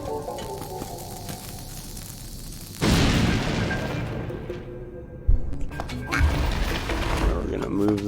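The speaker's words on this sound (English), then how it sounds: "The reason we need bombs is to blow this up." A bomb blows up in the video game Zelda: Link's Awakening, a sudden loud boom whose noisy blast trails off over a few seconds, followed by a sharper pop and game sounds, with a voice talking.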